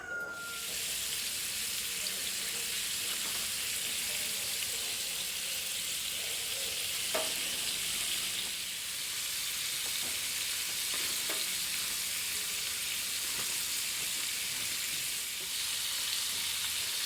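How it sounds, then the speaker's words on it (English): Steady, loud sizzling and crackling of alligator meat frying in hot grease on a wood cookstove, with a few faint clinks and knocks over the constant hiss. "we're frying this all up real good"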